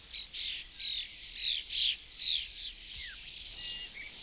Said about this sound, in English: the starlings have no trouble feeding their noisy brood